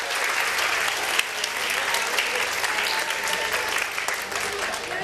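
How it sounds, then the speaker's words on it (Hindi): An audience at a live televised Iftar quiz gathering breaks into steady, sustained applause, a dense wash of clapping from many hands with no voices standing out. "बहुत अच्छा जवाब। तालियां।"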